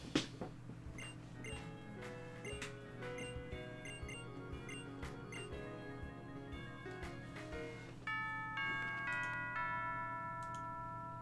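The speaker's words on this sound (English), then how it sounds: "That's the school bell." A video game school bell rings out in bright, repeated chiming tones, layered over steady game background music and fairly quiet in the mix.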